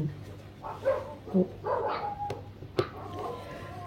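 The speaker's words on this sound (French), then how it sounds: "vous entendez les chiens sûrement" Several dogs bark and yip at moderate distance in an irregular burst, with a few sharp clicks mixed in and no talking.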